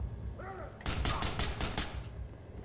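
A rapid burst of five or six loud gunshots in the tactical police shooter game Ready or Not fires in quick succession, with no voices during the burst.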